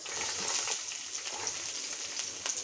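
Oil and sliced chili sizzling and frying in an electric curry cooker, a steady soft hiss with faint crackles throughout and no talk.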